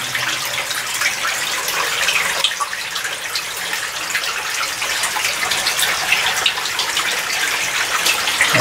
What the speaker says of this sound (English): you're gonna see water just flowing out of there.